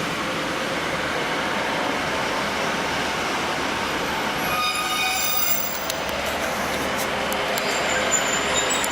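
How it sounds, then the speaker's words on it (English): A train pulls into Loughborough station on the Midland Main Line, with a steady loud rumble of wheels and carriages, and high squealing tones rising partway through as it brakes alongside the platform. "Train just coming in at the moment."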